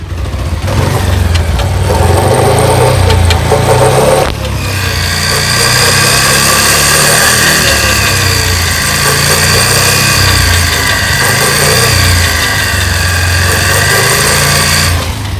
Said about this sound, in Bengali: এটা হলো 5 নাম্বার গিয়ারের সাউন্ড।